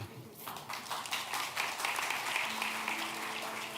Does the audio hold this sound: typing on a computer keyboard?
no